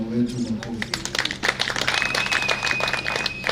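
An audience at the launch of Makueni ATC agricultural training college breaks into a dense burst of clapping, crisp and sustained, with a speaker's voice heard briefly at the start.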